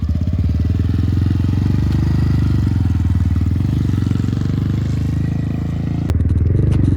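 A Honda Grom minibike is ridden in first gear with a jammed shifter, its small single-cylinder engine thrumming loud and close in an even, steady drone with a brief blip near the end.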